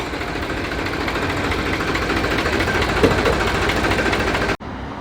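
A 5630 tractor towing a 26-foot trolley runs with a steady, loud engine drone and faint rumbling vibration, continuous until it drops out abruptly near the end.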